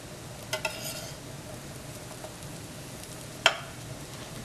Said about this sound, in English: we're going to take our spatula and we're just going to flip them over